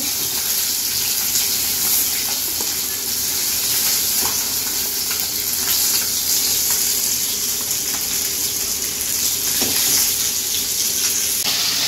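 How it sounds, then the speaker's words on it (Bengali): Fish fries in a pan of hot oil, producing a loud, continuous close-up sizzle with a watery, hissing crackle that stays even throughout. "এবার মাছটা নামিয়ে নেব, ভাজা হয়ে গেছে।"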